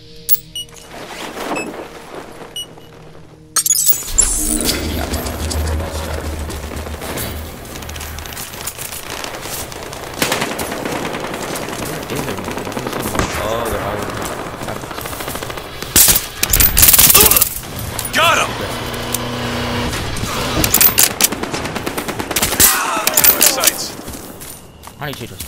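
Loud, sustained bursts of machine-gun and rifle fire from the Battlefield Hardline video game pound almost continuously, with dense rapid shots, sharp single cracks, and occasional louder volleys, while a player talks over the action.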